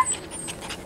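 Cavapoo puppies at a breeder's property pant and give soft whimpers in a brief, close burst, with no talking over them.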